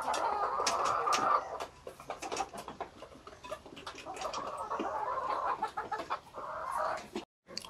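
White chickens clucking and squawking as a group while feeding, near and fairly steady with overlapping calls and pecking, plus a brief gap near the end.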